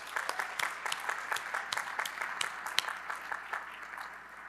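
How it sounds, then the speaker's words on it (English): An audience claps at a university graduate commencement ceremony, moderately loud, sustained applause with individual claps audible through the texture. "Let's have a round of applause for family and friends."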